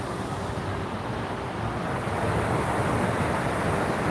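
Running water from the Caesars Palace fountains on the Las Vegas Strip, a steady broadband rush that holds continuously and swells slightly louder partway through, with no talk over it.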